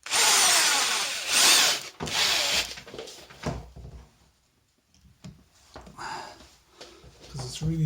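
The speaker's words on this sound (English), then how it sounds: "So I think we need to drill a little bit more." A power drill with a thin bit whines loudly in bursts, grinding into a metal bolt with a stripped head, with pauses between runs and a voice talking in the quieter gaps.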